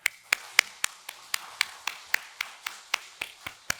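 Church congregation at an early-morning Korean prayer service clapping in unison, a steady rhythm of sharp, fairly close claps about three per second against a quiet background.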